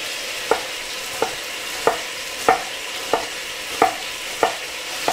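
Meat sears in a hot pan with a steady, close broadband sizzle, punctuated by about eight evenly spaced sharp scraping taps of a utensil stirring or turning the pieces; no voices.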